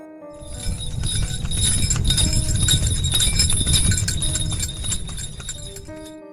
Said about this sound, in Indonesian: Tiba-tiba terdengar suara sepatu kuda dan suara deheman kuda di luar rumahnya.